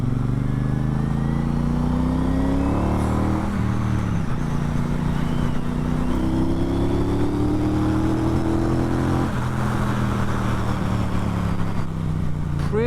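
A Triumph motorcycle accelerates out of a corner, its engine note climbing steadily through the gears with a continuous loud drone and a couple of gear changes along the way.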